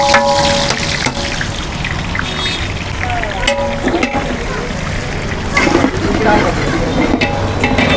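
Oil, about one and a half kilos, pouring into a large pot of seven kilos of khichdi at a famous Kandhar eatery in Nanded, a steady liquid trickle with clinking, under background voices.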